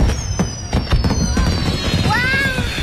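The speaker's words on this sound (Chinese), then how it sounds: "好漂亮的烟花！ 娘亲亲，你看，那么大的烟花！" Fireworks burst over a city waterside at night, with whistling rockets gliding down in pitch and a crackle of pops, close and loud, while voices talk over them.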